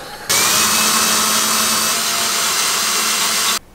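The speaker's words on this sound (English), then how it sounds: "Drill." Power drill switched on and run at a steady high whine for about three seconds before cutting off abruptly, loud and close with no talking.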